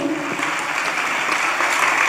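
A church congregation breaks into steady, dense applause at close range, a continuous wash of many hands clapping with no clear pauses.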